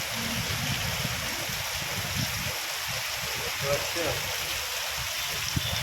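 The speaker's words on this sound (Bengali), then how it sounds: "বৃষ্টি কিন্তু সাংঘাতিক হচ্ছে সাংঘাতিক" Heavy rain pouring down in fog, a steady close hiss of water with a low rushing wash beneath, while a voice talks over it.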